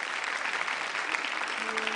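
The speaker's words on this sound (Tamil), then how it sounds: "ஜோரா கைத்தட்டி வெல்கம் பண்ணலாம்" A studio audience at a children's singing competition applauds to welcome a performer, dense, steady clapping heard close for the whole two seconds.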